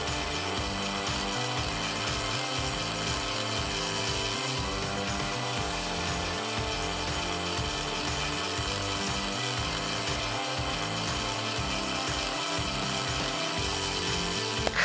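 A small popsicle stick robot walks along with a steady motor whir and rapid, rhythmic mechanical clicking from its stepping legs, close by and continuous.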